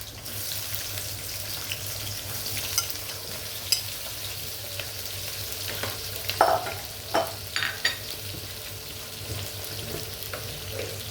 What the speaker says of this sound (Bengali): আমি এখন পেঁয়াজটি দিয়ে দিব।